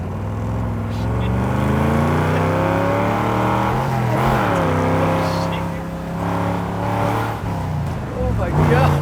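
A classic 1960s small-block Chevrolet Corvette from 1967 on bias-ply tires accelerating hard, its engine note climbing in a loud sustained roar with gear changes, heard from inside the car.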